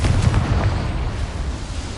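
A Confringo blasting spell goes off in Hogwarts Legacy as a deep, rumbling explosion that swells at the start and then rolls on loudly for about two seconds, with no voices over it.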